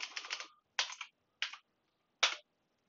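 Several keystrokes on a computer keyboard while a command is entered: a quick cluster of taps, then three separate clicks spaced apart, close and fairly quiet with no talking.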